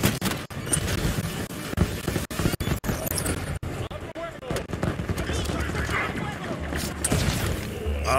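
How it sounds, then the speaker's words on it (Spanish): An automated turret in Halo 5: Guardians fires rapid bursts amid a busy firefight, sharp gunfire cracks and booms layered under game voices and battle noise. "Torreta de disparo."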